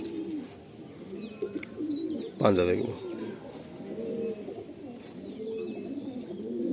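Madrasi breeder pigeons coo in soft, repeated rolling phrases close by, with a louder burst midway, while someone talks over them.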